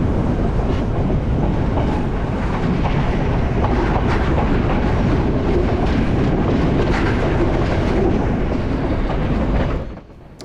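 A sleeper train runs along the railway line into Colombo, Sri Lanka, giving a loud, continuous rumble with rhythmic clickety-clack from the wheels that carries on steadily before cutting off sharply near the end.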